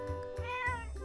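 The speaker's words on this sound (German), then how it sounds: "Kätzchen." A cat meows in The Legend of Zelda: Echoes of Wisdom, a short, clear game sound effect with a rising-then-falling tone over steady background music.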